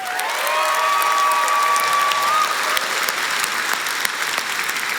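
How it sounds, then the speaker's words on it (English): Sustained applause from a conference audience at a product launch event for a presenter, a steady dense clatter of clapping with a faint tonal whistle or feedback line running under it for the first half. "Big round of applause for Nicola."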